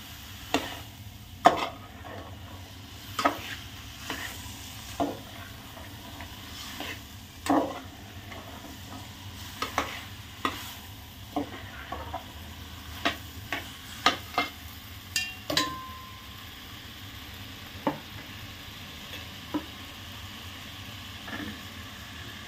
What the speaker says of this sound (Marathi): असं आपण सगळं हलवून घेणार भाजी.